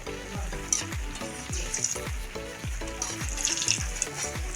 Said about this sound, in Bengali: আমার এই বড়াগুলো ভাজা হয়ে গেছে।